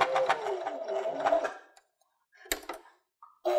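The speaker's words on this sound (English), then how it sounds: "So let's get that edge sewn up." A sewing machine stitches the edge of a fabric sunglasses case, running slowly in a close, buzzing burst, then pausing and starting again with short runs.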